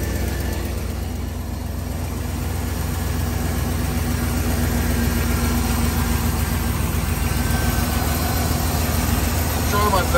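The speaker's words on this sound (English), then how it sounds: "the remote start does work on the vehicle." A 2009 Hummer H2 idles after a remote start, a steady low engine rumble that holds constant and fairly loud throughout, with no talking over it.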